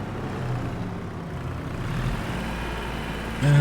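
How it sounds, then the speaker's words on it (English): A small tractor idles and runs in a farming video game, a steady low engine drone holding throughout at moderate level, with a brief louder bump near the end and no talking. "We can take the little tractor here. It is a funny size, this tractor, but it is quite nice to cultivate with the tractor,"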